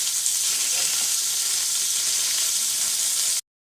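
Pork chops sear in a hot pan with a loud, dense, continuous sizzle and crackle that holds steady, then stops abruptly.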